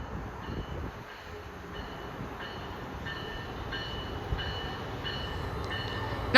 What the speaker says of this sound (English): This might be the one pulling into the station.